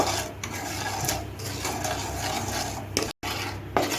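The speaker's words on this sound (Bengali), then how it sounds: "আমি নেড়ে চেড়ে এভাবে ক্যারামেল তৈরি করে নেব" Sugar being stirred in a pan to make caramel, a steady rasping scrape of a spoon against the pan with a few louder strokes, close and continuous.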